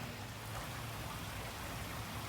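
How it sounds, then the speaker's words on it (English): Heavy rain pouring down steadily on a flooding garden in Oklahoma, a dense continuous hiss of falling water heard from a porch, with no voices. "It's been pouring down rain."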